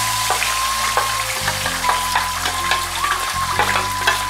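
Flour stirred in hot coconut oil for Tamil coconut-filled kozhukattai: steady frying sizzle with repeated scraping strokes of a spoon against the pan, close and fairly loud, a low hum running underneath.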